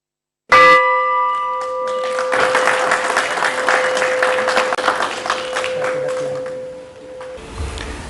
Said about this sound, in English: with the ringing of the symbolic bell to open its trading floor